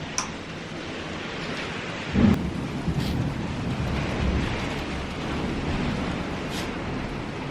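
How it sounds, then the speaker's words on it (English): Steady rain pours outside while thunder rumbles, one closer crack standing out early, then softer rolling under the constant hiss of the downpour. "I want to show you guys the rain I am talking over."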